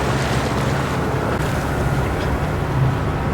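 A sailboat motors under engine past Peniche on the Atlantic coast, with a steady low engine drone mixed into wind buffeting and rushing water, continuous and loud.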